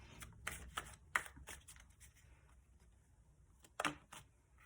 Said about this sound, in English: let me get the rest of the cards